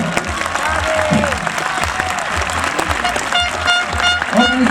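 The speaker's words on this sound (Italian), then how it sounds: "vi invito a fare un mega applauso all'organizzazione" A large crowd claps for the organisers at the awards ceremony of a youth festival at a parish oratory, steady mixed clapping with a few scattered voices and shouts underneath.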